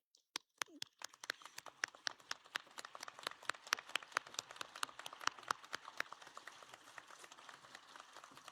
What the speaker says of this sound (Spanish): pido a los egresados se pongan de pie y den la media vuelta para aplaudir a las personas que nos han acompañado todo este tiempo